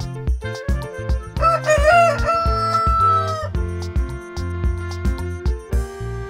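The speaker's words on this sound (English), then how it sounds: "rooster" A rooster crows loudly and close, with a long rising and falling cock-a-doodle-doo over steady rhythmic background music.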